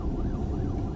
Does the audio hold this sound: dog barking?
no